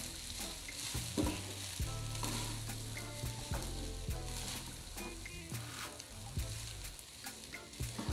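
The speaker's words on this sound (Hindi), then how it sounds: "फ्लेम मैंने स्लो कर दी है और हम इनको अच्छे से मिक्स करेंगे।" Egg fried rice with vegetables being stirred in a pan over a low flame, with a gentle steady sizzle and repeated close scraping and tossing strokes of the spatula.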